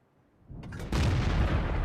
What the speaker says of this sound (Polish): Strzał na blindzie.